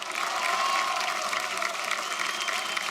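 A studio audience applauds on a televised antakshari singing reality show: dense, sustained clapping with some crowd noise, loud and close, filling the whole moment without a break.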